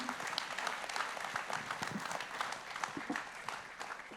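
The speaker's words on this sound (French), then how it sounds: "On peut les applaudir chaleureusement." Audience applause for four speakers at a French-language conference session, steady dense clapping throughout at moderate distance with no talk over it.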